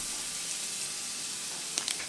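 Shrimp fry in a hot pan as lemon juice and butter go in, a continuous close sizzle and hiss that flares with a few sharp crackles and pops near the end, with no talking.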